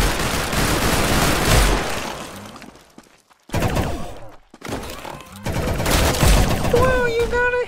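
Dense bursts of video game gunfire fill most of the stretch, loud and close, with brief gaps of near silence between volleys.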